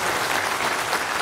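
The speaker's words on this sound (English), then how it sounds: "Applause." Conference audience applauds a speaker with steady, dense clapping throughout, fairly close and even, with no voices over it.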